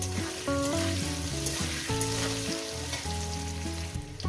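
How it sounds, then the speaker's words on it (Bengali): Potatoes frying in a salted pan give a steady sizzle, mostly buried beneath loud tonal background music that plays throughout with no talking. "এবারে এটাকে আমি পাঁচ মিনিট ধরে আলুটাকে ভেজে নেব"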